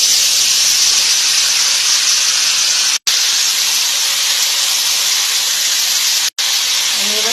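Jujube fruits dropped into hot oil for a pickle, a loud, dense, continuous hiss of vigorous sizzling that holds steady with two brief dropouts.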